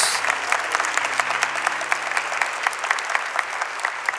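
A church congregation at a Catholic Mass breaks into steady, sustained applause, many hands clapping together in a reverberant hall for several seconds with no voices over it.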